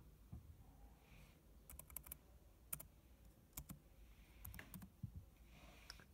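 Keys clatter on a computer keyboard while a search term is entered, quick irregular bursts of sharp clicks with brief pauses, close and fairly quiet.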